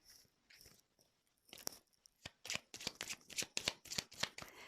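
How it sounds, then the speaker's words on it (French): Close, crisp tarot card shuffling opens with a few soft slides, then builds into a rapid rhythmic series of loud riffling snaps. "je vais prendre d'autres cartes"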